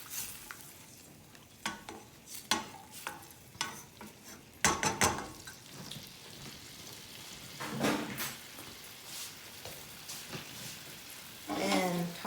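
Pasta being tossed in a pan with lemon juice and cheese, giving scattered clinks of utensils against the pan, stirring scrapes and a brief sizzle near the end, with no talk over it.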